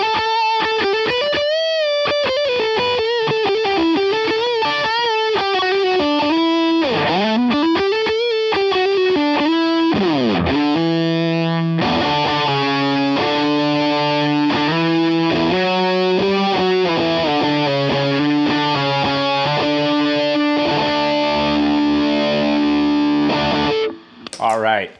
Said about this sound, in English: that's basically one of my sounds, the Vox AC30 with all my gain staging, with my delays and my Phase 95